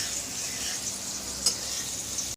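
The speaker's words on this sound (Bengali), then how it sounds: "এই যে কুমড়ো ভাজা বসেছি" Pumpkin frying in a pan makes a steady, close hiss of sizzling oil, with one brief clink partway through and no talking.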